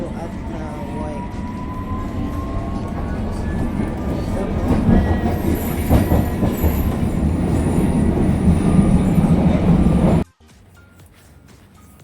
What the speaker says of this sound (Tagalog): So, this is the last train